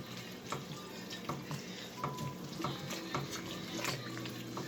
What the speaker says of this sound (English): Fully cooked noodles. Going into the pot here. Oh, yeah. Give this a big stir.